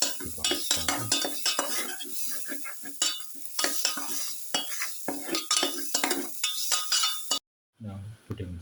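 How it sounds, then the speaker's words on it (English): Pepper cashew shrimp stirred in a hot sizzling pan, with repeated scraping and clinking of a utensil against the pan in quick irregular strokes over a steady fry, ending in a brief pause. "Keep on stirring."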